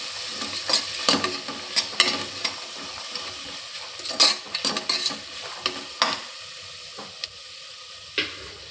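Potato and pea pieces are stirred in a hot cooking pan, with a steady sizzle underneath repeated scraping and clattering strokes of the spoon that come in irregular bursts at close range.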